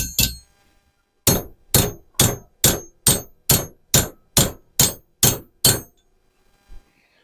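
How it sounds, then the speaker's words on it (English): A small hammer strikes a railroad tie in ten evenly spaced, sharp metallic blows, each ringing briefly before the next, loud and close, followed by a faint single knock. "let's see if I can do it with a small hammer first."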